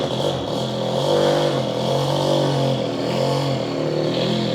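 A barn-find Puch Maxi moped engine idles steadily on choke, a close, continuous buzzing putter with a rough, even rhythm and no throttle blips, heard alone without talk.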